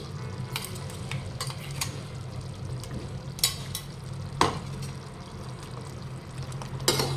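Garlic-ginger paste fries softly in a pan for chicken masala, a low steady sizzle broken by a few sharp scrapes and taps of a spoon stirring, fairly quiet and without speech.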